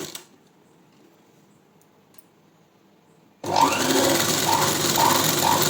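A sewing machine with a normal presser foot stitches thread piping, starting abruptly after a near-silent pause and running steadily and loudly up close to the end.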